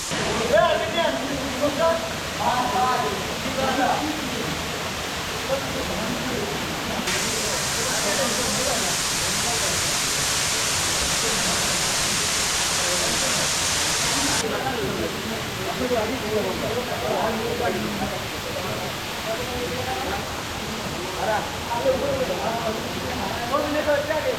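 Steady broadband rush of water from Napittachora waterfall on a hill trail in Sitakunda, a continuous loud roar that swells in the middle stretch, with people talking intermittently over it.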